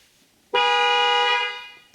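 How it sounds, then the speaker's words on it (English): A car horn sounds once during an actuation test run from an Xtool D8 scan tool through the body control module, a loud steady blare lasting about a second after near silence. "So you can blow the horn from the tablet."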